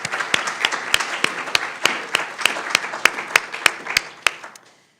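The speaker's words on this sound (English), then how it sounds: "Let's give candidate Anthony a round of applause" A small audience at a Burke County candidates' forum claps for a candidate: sparse, distinct individual claps in a steady ragged rhythm, fairly close and moderately loud, tapering off and ending near the close.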